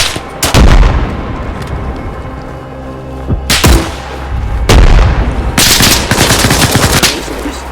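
Heavy artillery and gunfire rumble through a military simulation battle in Arma Reforger, with repeated loud booms and crackling bursts layered over a constant roar, and no talking.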